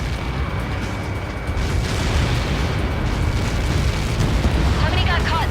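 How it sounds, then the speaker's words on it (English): A massive explosion from the Helios projectile impact in the video game Ace Combat 7, a loud, sustained rumbling roar that swells and holds with dense low-end boom throughout. "How many got caught in that explosion?"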